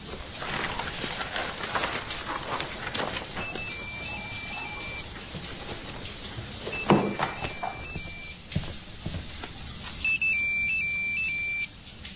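A mobile phone plays an electronic ringtone melody in repeated bursts, fairly clear and close, over quiet room ambience with a few soft knocks and movements.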